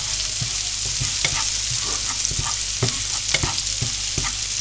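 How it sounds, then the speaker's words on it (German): A utensil scrapes the browned drippings of fried meatballs off the bottom of a pan, with a constant loud sizzle and irregular close scraping strokes on top. "Schön den Bratensatz von den Frikadellen runterholen, das ist Geschmack pur."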